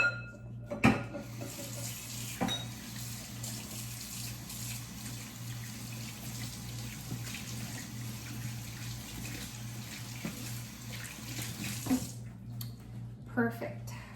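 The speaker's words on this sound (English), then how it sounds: "And I'm going to rinse my hands." Water from a kitchen tap runs steadily while hands are rinsed under it during orange tart baking, with a continuous hiss, a few clinks and splashes, and a low hum in the background.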